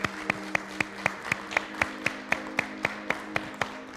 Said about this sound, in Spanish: ¿Por qué no damos un aplauso al Señor?